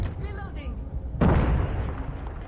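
A grenade blast in the mobile shooter Call of Duty: Mobile: a sudden loud boom that breaks out midway and rolls into a rumbling tail, following quieter game noise and a faint voice in the background.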